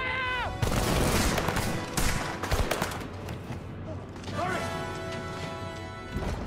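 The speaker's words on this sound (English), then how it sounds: "Second cannon! Fire!" Cannon-fire effects in a stage musical of Les Misérables, loud crashing bursts in rapid succession with gunfire-like cracks, shouted voices and music sounding between the blasts.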